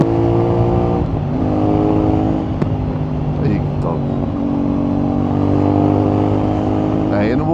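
A CFMOTO 450NK motorcycle engine revs and pulls hard through the gears on the road, its harmonic drone rising and dropping with each shift, loud and close against heavy wind rush.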